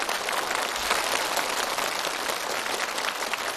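Studio audience applause on a television challenge show, a dense, even roar of clapping that stays loud and steady throughout with no talking over it.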